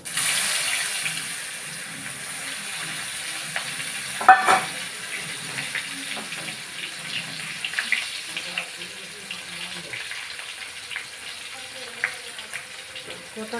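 Onions going into hot oil tempered with cumin seeds for a tilapia curry give a steady sizzle and crackle, with a brief louder burst near the start and scattered pops under faint hiss.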